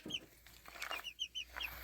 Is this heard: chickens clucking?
yes